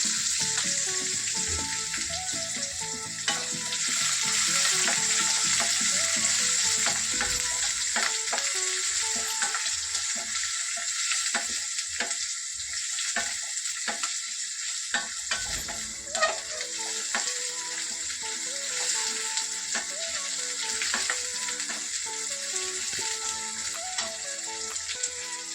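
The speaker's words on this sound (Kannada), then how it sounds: "ಸೋಂಪು ಕಾಳು, ಕರಿಬೇವಿನ ಸೊಪ್ಪು, ಈರುಳ್ಳಿ ಹಾಕ್ತಾಯಿದ್ದೀನಿ." Fennel seeds, curry leaves and onion fry in hot oil in a pan for chana masala gravy, giving a steady, close sizzle broken by stirring scrapes and clinks throughout.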